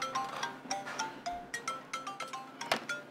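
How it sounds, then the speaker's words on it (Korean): A mobile phone rings with a repeating electronic ringtone, a steady pulsing pattern of tones sounding about every half second, fairly loud and alone. "때마침 걸려온 전화."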